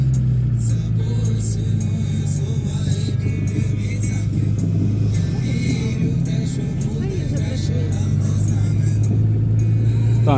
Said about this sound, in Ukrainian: Як бачите, автомобіль глохне.